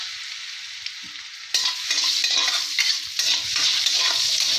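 Whole spices (bay leaf, cloves, cardamom and cinnamon) hit hot butter in a pot for veg pulao, and a loud, close sizzle erupts after a quieter hiss and keeps crackling while a spoon stirs.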